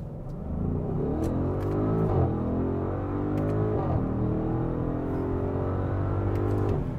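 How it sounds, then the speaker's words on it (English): A 2022 Audi SQ7 performance SUV runs a 0 to 60 launch in manual shift mode, its engine climbing through several rising revs with quick dips at each gear change, loud and close from inside the cabin. "I'm gonna do another 0 to 60 here just because it's so fun, but I'm gonna do it in manual shift mode."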